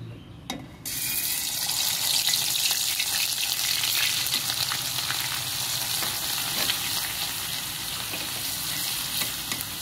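Bay leaf and spices hit hot oil for a fish bhuna and crackle into a loud, steady sizzle after a brief quiet start, with some stirring noise and no speech.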